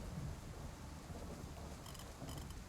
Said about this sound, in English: Booming clap of thunder sounds from outside the window